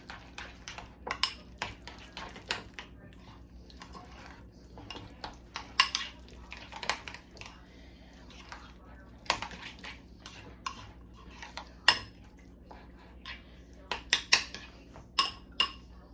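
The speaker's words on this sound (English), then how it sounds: "let's give that a little mix" A utensil scrapes and clinks against a pot while stirring a home-cooked pantry dish with added jalapeno, giving irregular metallic knocks and rattles at close range over a steady background hum, with no voices.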